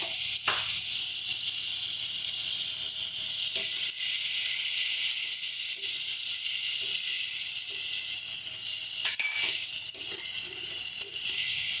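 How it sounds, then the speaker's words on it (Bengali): Ground ginger, garlic and green chili paste frying in a pan, a loud, steady sizzle with faint stirring scrapes throughout. "বাটা মশলাটাকে প্রথমে কষিয়ে নিচ্ছি ভালো করে।"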